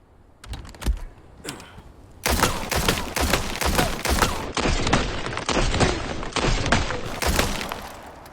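Rapid bursts of automatic gunfire from a firearm shot with its stock removed in Resident Evil 4 Remake, loud and close, in several long sustained strings after a few sparse opening shots.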